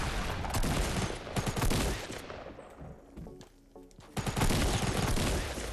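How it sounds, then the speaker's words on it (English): Gunfire in a Fortnite Battle Royale fight, with dense, loud bursts of repeated shots, a brief lull in the middle, then another heavy volley. "Now it's a shotgun fight."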